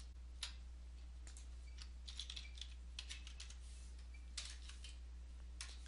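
Faint, irregular keystrokes on a computer keyboard, quick clicks in small bursts over a low steady electrical hum.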